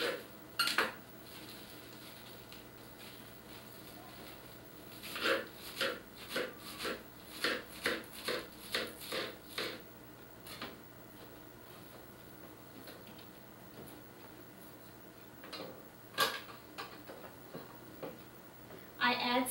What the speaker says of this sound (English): For this I take spinach and chop them coarsely.